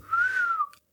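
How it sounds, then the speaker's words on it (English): A single wolf whistle by a bricklayer, clear and close, rising and then falling over about half a second and trailing off into silence. "You can't be a bricklayer without the wolf whistle."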